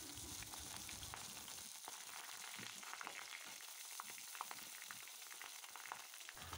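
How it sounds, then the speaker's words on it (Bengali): Eggplant pieces fry lightly in oil with black cumin seeds, a faint, steady hiss and crackle of the pan continuing throughout with no speech. "বেগুনগুলো ভালো করে হালকা করে ভেজে নেব"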